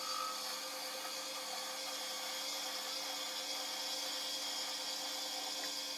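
A metal lathe parts off a piece of stock to make a generator part for a Meriam Abbott engine. The cut makes a steady, unbroken noise that holds at an even level throughout, with no voices.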